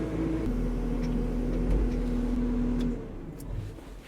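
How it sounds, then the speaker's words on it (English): Pickup truck driving up at night: a steady, fairly loud engine drone with a faint whine, running evenly and then easing off, with no talking. "let's go get our truck, bring it up here so we got a little bit more light"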